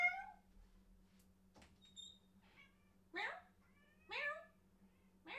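A house cat meows several times in short rising calls spaced across a quiet room, alternating with a person softly imitating the meow nearby.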